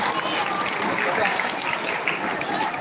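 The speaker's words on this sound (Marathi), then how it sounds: "ज्यांनी ज्यांनी या प्रतिकृती आणि पोस्टर" An audience claps steadily for school students who made models and posters at a science day event, a dense, continuous wash of hands that stays even and fairly loud for the whole stretch, with some voices mixed in.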